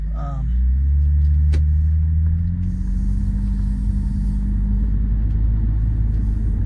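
A Lexus GS300 with a naturally aspirated-to-turbo conversion and VVTi engine idles while warming up, a steady, deep, close rumble holding evenly throughout.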